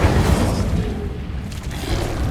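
Incendio fire spell cast in Hogwarts Legacy: a deep, booming rush that is loud at the start and eases into a rumbling tail, with a faint whoosh partway through.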